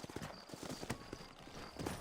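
Horse hooves clip-clop in a steady, close rhythm in the Western game Red Dead Redemption, a string of sharp hoof strikes over a busy background, with a brief whinny-like sound among them.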